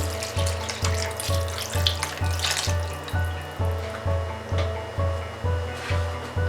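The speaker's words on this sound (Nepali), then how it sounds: "यसमा मैले राखेँ अब 1 कप पानी।" A cup of water is poured into a pan of okra and potato curry, giving a steady watery splash over a regular pulsing background hum.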